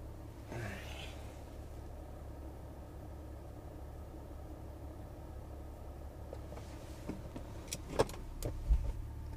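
Low, steady car engine rumble heard from inside a moving vehicle, with a few faint clunks and rattles toward the end.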